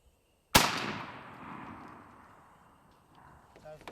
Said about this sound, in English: let's see what these shotguns will do first